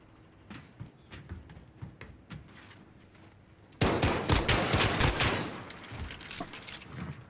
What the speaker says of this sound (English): Pistol shots coming out right now.